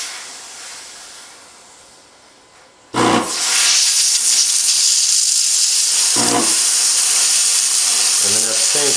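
A steam cleaner blasting carbon buildup off hot gun parts. A quiet fading hiss gives way to a sudden loud, sustained jet of steam that roars steadily close by, with brief dips and sputters near the end.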